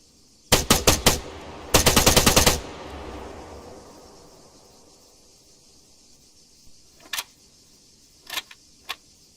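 Gunfire in a shooting video game: two sharp bursts of rapid automatic fire close together early on, a fading tail, then a few scattered single shots later, fainter.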